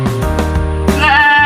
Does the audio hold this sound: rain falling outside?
no